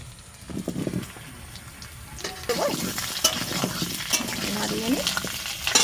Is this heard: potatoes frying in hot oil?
yes